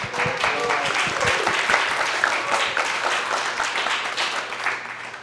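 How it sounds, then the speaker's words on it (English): Dense, sustained audience applause at a nightlife-preservation panel conference, many hands clapping steadily and loudly for the whole stretch with a faint low hum underneath. "So let's give them a round of applause."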